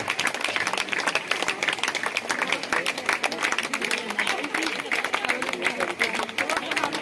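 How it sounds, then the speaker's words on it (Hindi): Crowd at a ceremony applauds a nine-year-old girl who set a Golden Book of World Records mark, a continuous, loud patter of many hands clapping with murmuring voices mixed in throughout. "सभी से अनुरोध है कि तालियों के गड़गड़ाहट से इस बच्ची का उत्साह वर्धन करें।"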